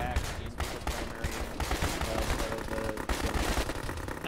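Dense gunfire and explosions in the military shooter Arma fill the mix continuously, with rapid bursts and booms layered under team radio chatter.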